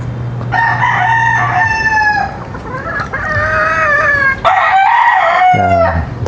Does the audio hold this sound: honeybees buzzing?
no